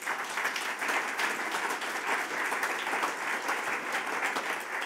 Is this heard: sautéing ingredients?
no